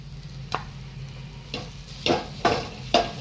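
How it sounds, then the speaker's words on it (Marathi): Jaggery being stirred into a coconut filling for ukadiche modak in a pan, soft sizzling under a series of spoon scrapes that grow louder and closer together, close up with no talk. "आता गुळ वितळेपर्यंत त्याला छान मिक्स करून घ्यायचं आहे"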